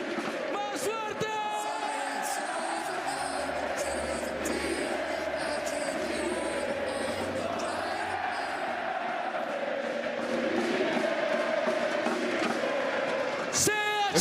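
A packed esports arena crowd at a VALORANT Masters grand final in Santiago roars and cheers continuously, a loud dense wall of voices with chanting swells and sharp peaks near the start and end.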